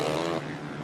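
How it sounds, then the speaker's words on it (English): A 450 motocross bike at the Washougal race revving hard as the clutch is dumped, a loud sustained engine roar that dips slightly partway through. "You just hear dumping the clutch, huge revs out of that bike."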